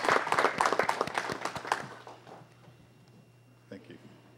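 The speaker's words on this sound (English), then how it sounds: "Give applause." Applause at a city council meeting, a brief burst of clapping that fades out within about two seconds, leaving a quiet room with a low hum.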